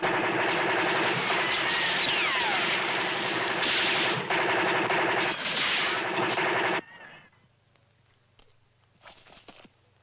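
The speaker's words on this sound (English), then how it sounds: "I didn't tell you to stop firing, Sergeant." Soldiers fire a sustained, dense burst of gunfire that stays loud for about seven seconds, then cuts off abruptly and leaves a quiet hum with a few faint scattered sounds.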